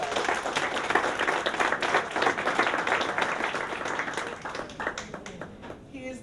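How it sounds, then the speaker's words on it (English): Audience applause at a 2018 Essex County College West Essex Advisory Board ceremony, dense steady clapping filling the room, with some voices underneath, tapering slightly near the end. "That's a round of applause."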